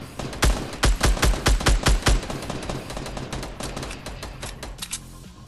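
Rapid bursts of automatic gunfire in a Fortnite match, a dense string of sharp shots in the first two seconds and then thinner, scattered shots over continuous game noise, with no talk.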